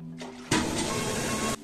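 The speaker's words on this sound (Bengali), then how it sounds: "এখানে আমি 4 কাপ জল দেব" Water pours steadily into a cooking pot for vermicelli, a continuous broadband splashing rush of about one second that starts abruptly and cuts off cleanly, close and fairly loud with no talking.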